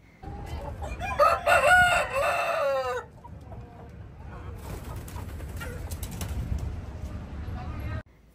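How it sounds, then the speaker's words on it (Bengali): Desi chickens at a roadside dhaba in Tamil Nadu: a rooster crows loudly and close in the first few seconds, then clucking and other fowl calls carry on under background voices. "দেখুন কত মুরগি"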